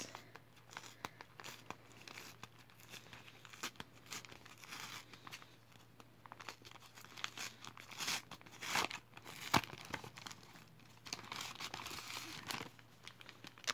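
A small package holding glittery washi tape and a shiny charm being carefully opened, with quiet, continuous crinkling and tearing of plastic and paper close by.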